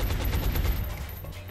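A short burst of rapid suppressive gunfire rattles in the XCOM: Long War video game, loud and close, then tails off into a lower rumble.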